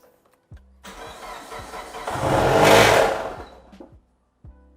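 A Mitsubishi Evo 7 engine with a fault, running in neutral after an oil change: short starter clicks, then a single swelling rev that peaks and falls away, followed by a few faint ticks, with no talking.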